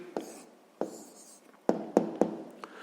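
A pen writes out an answer by hand, giving a few soft scratchy strokes punctuated by several sharp taps against the paper, close and quiet with no voice.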